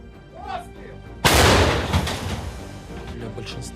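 One heavy artillery blast from a defensive position booms out and rumbles away over a few seconds, preceded by faint talking.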